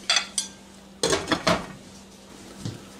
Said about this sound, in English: Let's put the lid on.